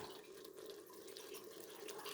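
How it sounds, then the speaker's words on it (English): Chicken stock poured into a cup in a kitchen, a soft, steady liquid trickle heard close and quiet, continuous without a break. "I'm pouring some more chicken stock into the cup"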